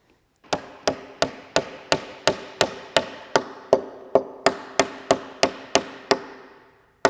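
Wooden dowels hammered into a timber frame, about fifteen sharp, evenly spaced hammer strikes at a steady rhythm, close and loud with short ringing decays and no talk.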